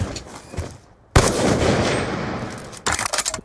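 A charge gun fires in a first-person shooter video game with a sudden loud burst that roars on for nearly two seconds, then cuts out and gives way to rapid crackling shots.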